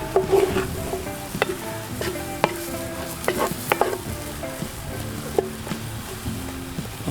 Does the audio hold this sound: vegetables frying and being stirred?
yes